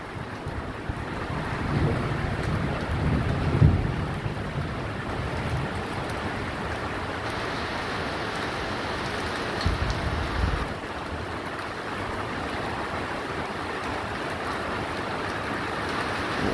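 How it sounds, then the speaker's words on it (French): Heavy rain driven sideways in a strong March thunderstorm, a constant wash of rain and wind roar buffeting the microphone, with heavier gusts in two places. "Ah, ça pleut de travers."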